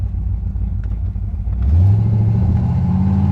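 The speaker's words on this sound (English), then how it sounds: "it does have one badass exhaust system on it. Listen to it." A 1968 Chevrolet Chevelle's engine idles with a deep rumble, then revs up hard through its loud aftermarket exhaust, holding a strong, close, throaty roar to the end.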